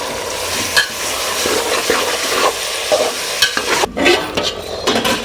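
Chicken fries in a pan and is stirred through it, with a steady crackling sizzle underneath and the scrape of a spoon against the pan repeating again and again, all close up and with no voices.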